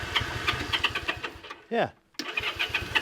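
An old Honda Dream motorcycle, left sitting for 14 years, sputters briefly on starting fluid after a cranking whir, then a short silence and a voice speaks over the mechanical noise.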